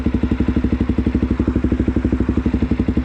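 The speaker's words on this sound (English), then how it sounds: "Knowing that the bike starts and it just wants to go." A Suzuki DRZ motorcycle engine runs close by with a fast, even, thumping beat, loud and steady throughout with no voices.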